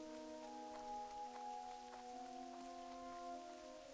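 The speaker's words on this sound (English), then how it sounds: "Rainy day here." Rain in a Lord of the Rings video game, a faint, soft patter of drops on surfaces under steady tonal game music, quiet and continuous.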